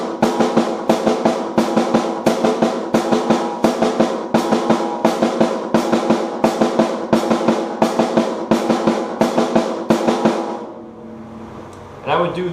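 Drum kit playing repeated bursts of sixteenth notes separated by rests, sharp loud hits in a steady rhythmic pattern for about ten seconds before stopping, with a faint final hit.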